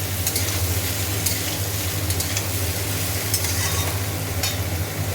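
Poppy seed paste with green chillies fries in a pan, a dense continuous sizzle with occasional crackles, steady and close, over a low constant kitchen hum.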